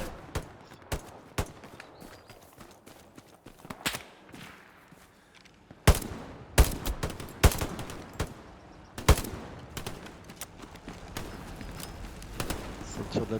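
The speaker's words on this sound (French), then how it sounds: "Ça tire de la gauche." Gunfire from the left in a first-person war video game with tanks and supply points, with repeated sharp shots and bursts, some loud and close, others quicker and fainter, against a busy battlefield background.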